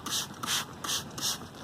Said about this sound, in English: I just spray it around